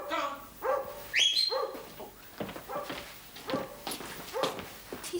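Dogs bark and yelp in short bursts outdoors, mixed with whining tones, while people talk over them.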